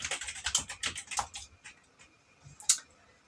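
Quick, light clicks of a computer keyboard being typed on up close, an irregular burst of keystrokes thinning out with a final sharp tap.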